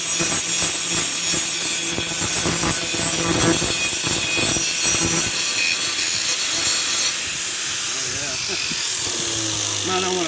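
A knife blade cut from a sawblade, clamped in a vise, is shaped with close, repeated rasping strokes of grinding and rubbing. Someone talks over the strokes.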